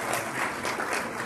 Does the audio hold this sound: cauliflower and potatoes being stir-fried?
no